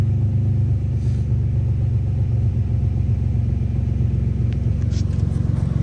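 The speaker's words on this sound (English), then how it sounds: "It's got a nasty exhaust leak right now" A Nissan Z drift car engine with a bad exhaust leak idles close up with a loud, rough, pulsing rumble that stays steady throughout.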